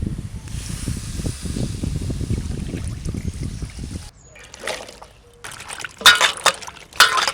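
Water is poured over washed rice in a pot, making a steady, rushing pour for about four seconds before giving way to scattered kitchen clatter and hiss.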